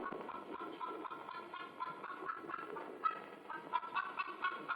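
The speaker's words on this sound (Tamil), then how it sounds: "நினைச்ச உடனே அந்த கோழி வருது பாருங்க" Chickens cluck steadily amid a busy, muffled background of low rumbling and rustling, fairly quiet throughout.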